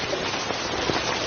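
Steady rain falls outside as a dense, even hiss with faint scattered patter, continuous and fairly soft, with no voices.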